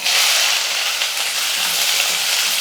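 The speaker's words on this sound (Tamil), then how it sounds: "வெங்காயமும் கருவேப்பிலையும் சேர்த்துக்கலாம்" Onion and curry leaves hit hot oil that is already spluttering with mustard seeds and cumin, making a loud, bright, continuous sizzle close up with no voice over it.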